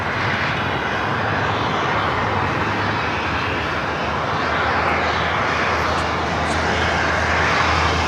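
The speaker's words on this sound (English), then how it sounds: "The United Dreamliner now allowed to cross over 25 right." Constant loud jet engine rumble and whine from a United Dreamliner airliner taxiing across runway 25 Right at Los Angeles International Airport, sustained and even throughout, with faint voices underneath.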